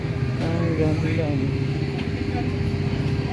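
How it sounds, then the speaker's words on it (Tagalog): A motorized tricycle on a street in Guiuan, Eastern Samar runs with a steady, close engine drone throughout, while a voice talks over it. "Ang ganda ng tricycle nila dito."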